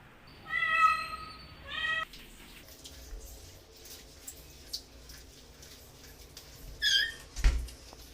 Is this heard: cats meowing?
yes